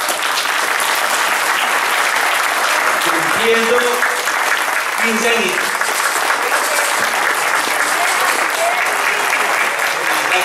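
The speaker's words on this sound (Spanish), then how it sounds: "Un aplauso bien fuerte" An audience at a Colombian local news event applauds loudly and continuously throughout, a thick wall of clapping with a brief spoken voice rising through it partway.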